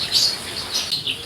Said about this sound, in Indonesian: nah ini burung jenis apa ini?